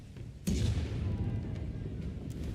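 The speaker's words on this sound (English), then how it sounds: "And fire the outer cannons." A ship's cannon fires in the Pillars of Eternity Deadfire video game, a single deep boom with a rumbling tail that rolls on for about two seconds and rises alone over low ambience.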